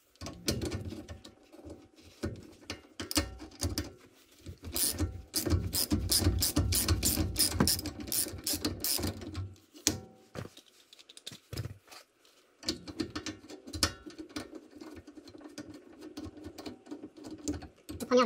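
A ratchet loosens the rear brake caliper screws on a Peugeot 307 HDI, producing close, rapid bursts of sharp clicking, strongest in a long run midway, separated by brief pauses and quieter handling.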